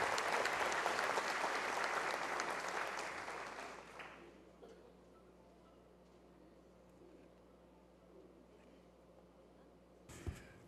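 Audience applause at a ceremony honoring Italy, a thick burst of clapping for about four seconds that thins out and fades into a quiet room, with a brief knock near the end.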